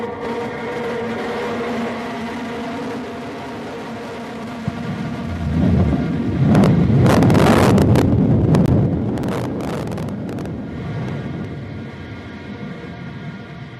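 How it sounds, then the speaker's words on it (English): New Shepard rocket booster relighting its engine during descent on the NS-29 flight, heard as a distant rising roar that swells into a broad rumbling blast for several seconds under wind noise, then eases back. "All right, there's engine relight."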